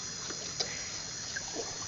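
River water flows in Patikul, Sulu, a steady soft wash with a few faint small splashes over about two seconds, with no talk.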